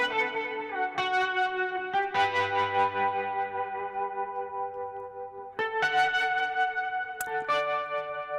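A recorded guitar solo in a pop-style beat, drenched in reverb and effects: sustained, ringing melodic notes with fresh attacks at several points, played loud and steady without any voice.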